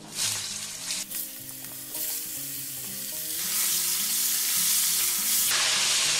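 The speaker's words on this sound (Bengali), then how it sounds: "এবার আমি এই তেলের মধ্যে দুটো মিডিয়াম সাইজের আলু নিয়েছি কেটে, লম্বা লম্বা করে এটা ভেজে নেব" Long strips cut from two medium potatoes fry in hot oil in a pan, giving a loud, continuous crackling sizzle that swells and grows denser toward the end, broken by a few stirring clatters, with no voices.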